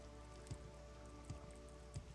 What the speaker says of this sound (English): Oh, so it's raining.